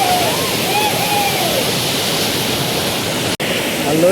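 Gollaradoddi waterfall rushes with a loud, steady, broadband roar of falling water, close and constant for the whole stretch, with only a momentary break near the end.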